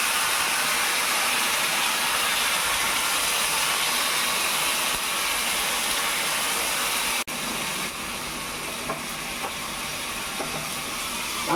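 Steady, dense hissing and bubbling of curry boiling vigorously in a pot, close and continuous, with a brief dip partway through and a few faint clinks near the end.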